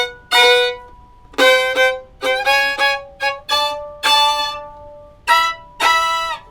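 Two fiddles play the opening phrase of a blues shout chorus in an ensemble soli arrangement, sounding as short, punchy bowed chords in a syncopated rhythm, close and clear with no talking.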